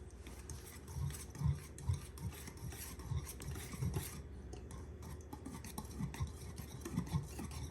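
Cinnamon roll ingredients, including flour and salt, being stirred together in a bowl, with soft, irregular scraping and rubbing strokes at a fairly quiet level and no talking.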